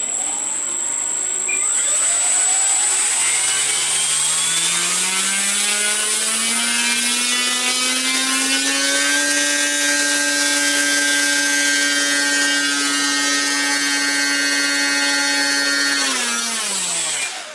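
Electric motor for a 48-inch aerobatic RC airplane spinning a 13.65 propeller on a 4-cell battery, whining loudly as it ramps up, holding a steady high-pitched drone, then spinning down at the end.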